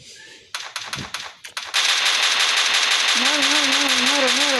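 M249 machine gun fire in a video game: a few short bursts, then a long unbroken rapid stream of loud, close shots, with a rising and falling siren-like tone joining near the end.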